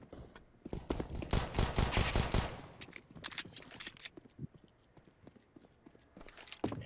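Rapid pistol fire from a P250 in Counter-Strike: Global Offensive during a competitive ESEA match, with dense clusters of sharp shots early on, then scattered single cracks and footsteps-like clatter.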